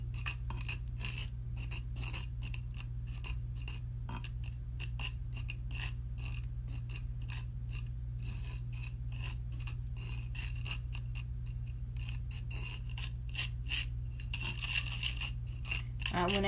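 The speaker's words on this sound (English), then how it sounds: "so I'm just going to stir these up" A spoon stirs homemade pumpkin spice mix in a bowl, a rapid, steady series of light scraping clinks against a low constant hum, quiet and close.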